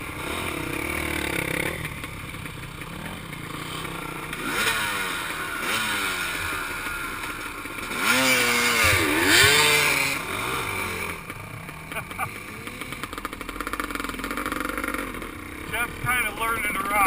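A motorcycle engine is revved repeatedly as the rider plays with the throttle, with rising and falling surges and louder bursts in the middle, heard along with rushing road and wind noise on a group ride.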